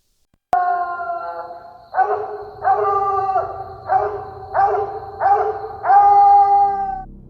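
A Walker coonhound howls in a series of about six long, drawn-out bawls, each rising then trailing off, close and loud with short pauses between, no talking.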